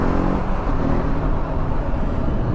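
A TVS Apache RTR 310 motorcycle engine runs close by as a loud, steady, dense drone. The throttle rises and falls only slightly, with no sharp rev peaks and no voices.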